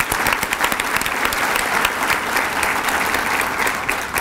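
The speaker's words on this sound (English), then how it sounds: "Give her a round of applause." An audience at an employees of the year celebration applauds in a dense, loud, sustained round of clapping with a few faint voices underneath.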